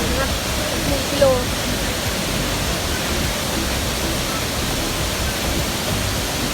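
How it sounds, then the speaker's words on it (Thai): Steady, dense rush of a waterfall at Nam Pien Yorla Pa after a one-kilometre hike, a constant broadband roar filling the whole clip with no pauses, close and loud. "น้ำตกสวยวิวดี"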